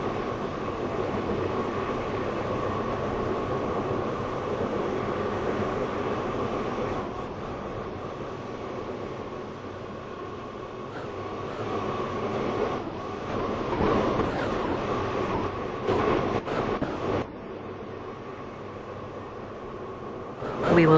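A Stepford Connect passenger train in the Roblox game SCR runs steadily on its route to Beechley, with a continuous rumbling, whooshing roll of wheels on track that swells and fluctuates slightly over time, with no talking.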